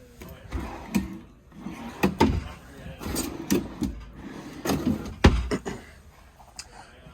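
Drawers in a 2023 Jayco Melbourne Prestige 24NP motorhome slide open and shut several times, giving close wooden knocks and brief rolling rumbles in an uneven rhythm, with a voice murmuring underneath.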